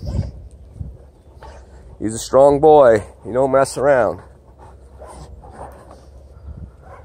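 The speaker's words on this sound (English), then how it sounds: "You can hear the dog barking." A dog gives a few harmonic, whining barks nearby, while someone talks over and between them.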